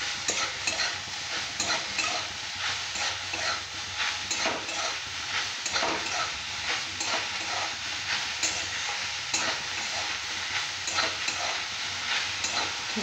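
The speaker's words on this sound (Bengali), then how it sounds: "এটা ভালো করে নেড়ে চেড়ে ভেজে নিতে হবে।" Mushrooms frying and being stirred in a pan, a dense steady sizzle with repeated spatula scrapes against the pan, close and continuous with no speech.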